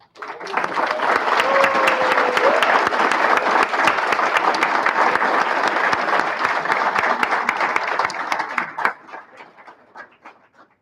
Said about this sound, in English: a huge round of applause for the team